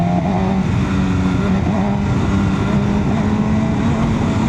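A 200 hp MV Agusta motorcycle engine stuttering and misfiring while riding on small roads, heard as a loud, continuous engine drone with uneven wavering pitch and steady wind roar.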